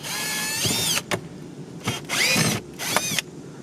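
A power screwdriver removing two screws from the panel under the steering wheel of a 2009-2018 Dodge Ram, whirring in several short bursts of rising and falling pitch separated by brief pauses, close and fairly loud.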